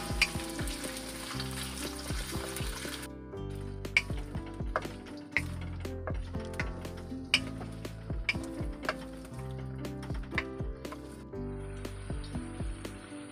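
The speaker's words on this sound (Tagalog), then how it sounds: "Una ay ipiprito muna natin itong ating patatas at carrots." Potatoes and carrots frying for chicken caldereta, giving a continuous crackling sizzle with busy clicks and pops, close and fairly loud, while music plays along underneath.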